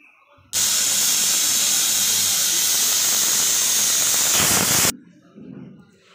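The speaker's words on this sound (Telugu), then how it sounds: "కుక్కర్ మూత పెట్టి విజిల్ పెట్టేయాలి ఏడు నుంచి ఎనిమిది విజిల్ అయితే రావాలి" A loud, continuous hissing blast of steam from a pressure cooker whistle while cooking boti (goat tripe) curry lasts about four seconds, then cuts off abruptly, leaving quiet background noise.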